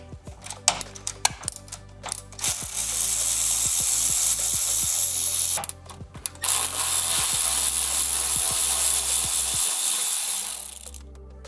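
Power tool ratcheting out 6mm bolts on an Indian motorcycle: clicking bursts then two long sustained whirring runs, close and loud, with short pauses between.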